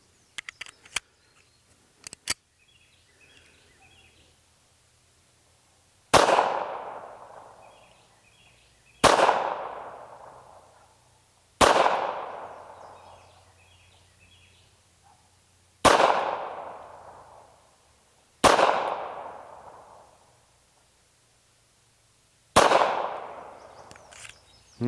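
A Walther PPK pistol fires SIG 90 grain defensive rounds, six sharp loud shots spaced a few seconds apart, each trailing into a ringing echo, after some faint clicks and handling noise.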